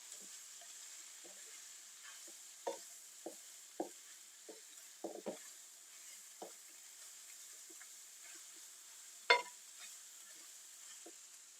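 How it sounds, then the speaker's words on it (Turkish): Chard with its stalks sautés quietly in a pan, a faint steady sizzle broken by scattered soft knocks and scrapes of a utensil stirring the greens. "Birkaç dakika pazılarımı da kavurdum."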